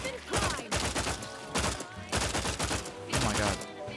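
Strafing gunfire in The Outer Worlds 2, loud, close and continuous, coming in three dense bursts with brief gaps between them.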